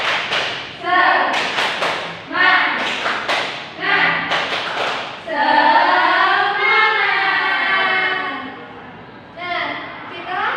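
A class of pupils does a rhythmic clapping ice-breaker chant, with bursts of sharp claps at first, then loud voices chanting together in unison.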